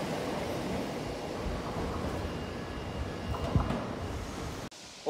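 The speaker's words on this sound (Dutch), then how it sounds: "Alweer een extra trein, jongen." A train rumbles through Rotterdam Centraal station with a steady, broad rolling noise and a faint squeal, fairly loud until it cuts off abruptly near the end.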